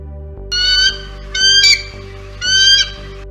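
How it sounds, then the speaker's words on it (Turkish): Three shrill, high-pitched screeching eagle calls, each about half a second long and evenly spaced, over a low steady hum. "Kartallar zayıf bir çığlığa benzeyen tiz bir ses çıkarırlar"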